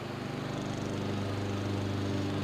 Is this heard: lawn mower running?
yes